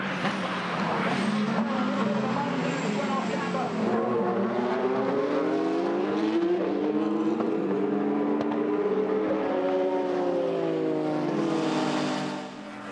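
Toyota and Porsche endurance race cars battle on a Texas circuit, their engines roaring loud and steady with rising and falling pitch through gear changes and passes, a continuous close wall of racing engine noise.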